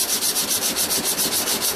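A steel knife blade's flats are hand-sanded with abrasive paper in quick, even back-and-forth strokes, about five or six per second, close and loud with no talking.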